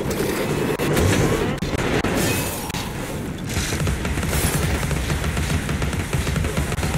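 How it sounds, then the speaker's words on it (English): Gunfire in the video game Alice: Madness Returns hammers an enemy as a continuous, loud barrage of booming blasts, dense and unbroken throughout with no pause. "I just shoot him to oblivion"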